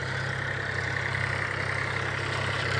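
A tractor pulling a trolley runs at a railway line doubling construction site near Malhaur station, its engine a steady, unbroken diesel drone with no voices over it.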